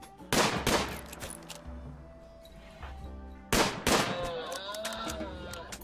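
Shots from bolt-action rifles fired at an alpaca in the video game RimWorld: a close pair of sharp bangs, then a pause and a single further shot that rings out with a short tail.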